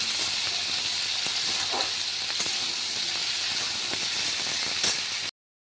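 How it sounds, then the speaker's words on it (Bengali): Potatoes frying in oil with nigella seeds, a dense continuous sizzle and hiss holding steady and loud until it cuts off abruptly. "তেলের মধ্যে একটু কালো জিরে ফোড়ন দিয়ে আলুগুলো দিয়ে দিলাম আলুগুলো ভালো করে ভেজে নিয়ে"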